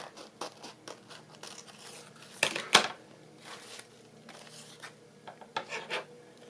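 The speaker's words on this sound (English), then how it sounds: "sanding block thingy to take all the edges off." Scratchy rasping of a sanding block rubbed along paper edges in short irregular strokes, close by, with a couple of sharper scrapes midway.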